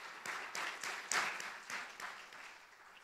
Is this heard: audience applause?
yes